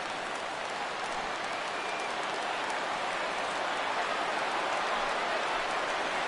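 A baseball stadium crowd in the video game MLB The Show 16 rises for a 3-2 count, a steady wash of cheering and noise that stays even and fairly faint throughout.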